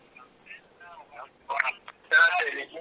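An incoming call plays over a broadcast phone line, with faint, thin telephone-quality tones followed by a muffled caller's voice that sounds compressed and distant.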